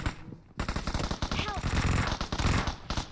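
Rapid automatic gunfire rattles in a PUBG Mobile match, loud and sustained bursts of shots filling most of the clip while a player's voice talks over it.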